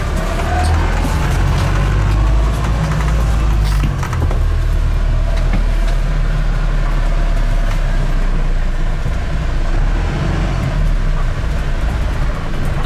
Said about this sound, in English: So now let's walk down to the back so we can listen to the engine.